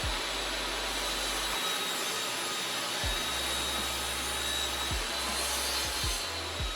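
Table saw cutting wood for a picture frame keepsake box, the workpiece pushed with a miter gauge against a stop block: a loud steady motor whine with recurring bursts of blade cutting and rasping, no voices.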